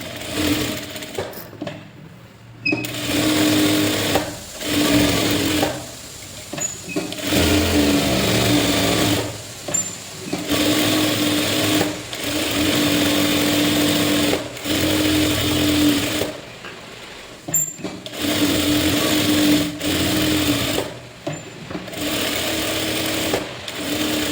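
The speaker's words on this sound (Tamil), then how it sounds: "இப்போ இந்த லைனிங் சுற்றியும் நம்ம என்ன பண்ண போகிறோம், தையல் ஃபுல்லாக போட்டுக்கலாம்." A sewing machine runs steadily, stitching around the lining of a blouse with a fast mechanical whir. It keeps going in long runs, stops briefly between passes, and is close and fairly loud with no voices.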